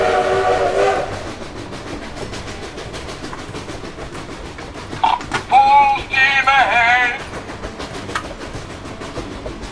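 A toy steam train rattles along steadily, then lets out a few loud, wavering whistle toots before settling back into its rolling clatter.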